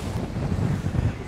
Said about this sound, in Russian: при таком ветре встречном